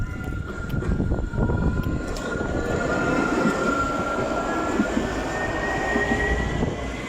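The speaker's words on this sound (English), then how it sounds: "And we have our first train of the day." A train passes at David Lane on Nottingham's NET Line 1 and 2, a steady rolling rumble with a high, drawn-out rail squeal building and fading over several seconds, heard from trackside at moderate volume.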